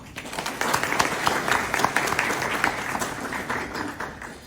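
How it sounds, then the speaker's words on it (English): Warm round of applause from the audience at a community gathering with diplomatic guests, a dense steady patter of many hands clapping at moderate distance, holding level for several seconds with no voices on top. "Please join me in giving them a warm round of applause"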